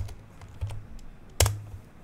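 A few keystrokes tap on a computer keyboard during a Windows 11 command prompt session, sparse clicks with one sharper, louder press near the end, close and alone in a quiet room.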